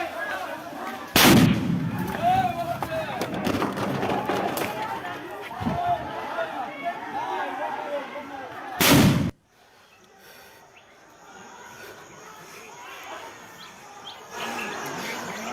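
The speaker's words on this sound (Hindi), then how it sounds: "फायरिंग हुई, गोली चलने की आवाज काफी दूर तक सुनाई पड़ रही थी।" Two sharp, loud gunshot bursts ring out in Murshidabad, one early and one near the middle, over a noisy outdoor crowd with voices in the background.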